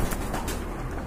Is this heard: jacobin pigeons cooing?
yes